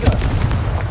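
A Confringo blasting spell explodes in Hogwarts Legacy, a loud, close, booming blast with a heavy low rumble filling the short moment.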